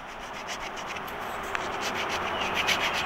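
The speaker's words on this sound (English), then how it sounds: "you could smooth out some woodwork with that file" File on a Nextool E1 pocket multitool scraping across a surface, a steady rapid rasping made of repeated strokes, close and fairly quiet, with no talk over it.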